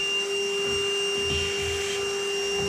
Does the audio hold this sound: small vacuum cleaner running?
yes